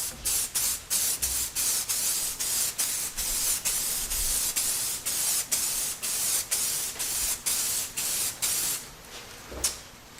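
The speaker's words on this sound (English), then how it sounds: "as soon as I start spraying it, they get that wet look" An aerosol spray can applies sealant onto beach rocks in a run of short, even hissing bursts separated by brief pauses, close and steady, with no talk.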